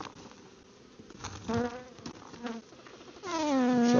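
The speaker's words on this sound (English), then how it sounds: "It's a good population of bees here." Dense, steady buzzing of many honeybees close by at an open hive, droning continuously and swelling louder toward the end.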